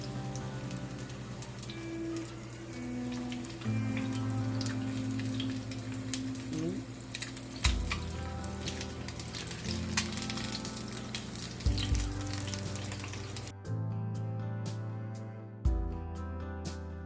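Pakoras sizzle and crackle steadily as they fry in hot oil, with a dense, constant spattering close by and no talk over it, accompanied by some low humming tones throughout.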